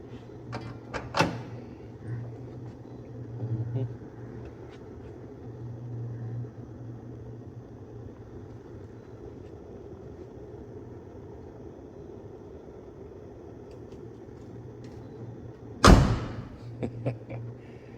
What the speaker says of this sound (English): doors don't shut like that anymore.